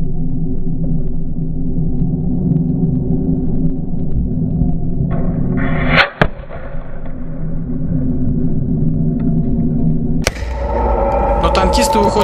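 Rebels fire a grenade launcher at Syrian army tanks during heavy fighting in Syria: two sharp, loud blasts about four seconds apart cut through a steady, heavy engine rumble.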